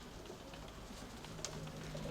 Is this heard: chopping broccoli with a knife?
no